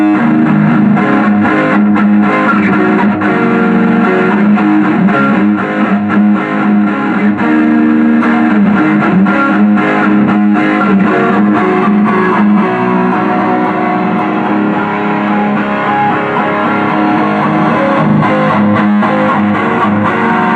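Kramer Striker electric guitar on the front pickup, played through heavy distortion at full volume, a loud, continuous stretch of strummed and sustained chords with no speech.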